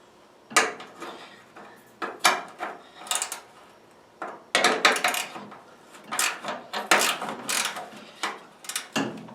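A ratchet with a 1/2 inch socket works on a radiator bolt of a Pontiac Firebird or Chevy Camaro, giving repeated bursts of rapid clicking in uneven strokes with short pauses between them.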